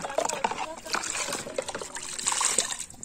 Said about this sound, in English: I'm simply going to rinse these utensils